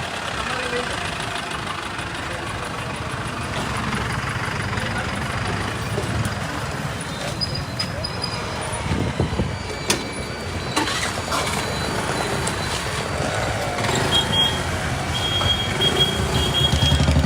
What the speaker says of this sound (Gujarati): આ ક્રેન આવી ગઈ છે અત્યારે અને આ ગાડી આપણે ટોઈંગ કરાવવાની